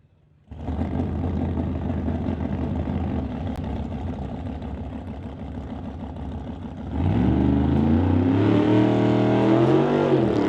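Ford Mustang drag car launching down a drag strip, a loud sustained engine roar that steps up sharply in pitch and volume partway through as it accelerates away, with no talk over it.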